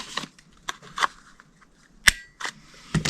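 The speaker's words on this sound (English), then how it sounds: "you're going to round these corners up here." A corner punch rounding corners on cardstock: several sharp, separate snapping clicks with short pauses between, close and alone.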